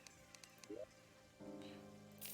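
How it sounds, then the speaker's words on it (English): Rain falling in Terraria (Calamity mod), a faint steady patter under scattered soft game sound effects and short tonal blips, with no talking. "So while it's raining, and even if it stops, I have a rain summon thing."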